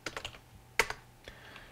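A few quick keystrokes on a computer keyboard enter text into a spreadsheet cell, a short cluster of clicks followed by a sharper tap and a couple of faint final presses, close and quiet.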